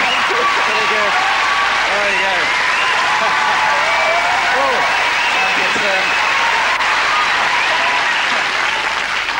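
A television talk-show studio audience bursts into long, loud, steady applause and cheering for an arriving guest, continuous throughout with a few voices whooping within it.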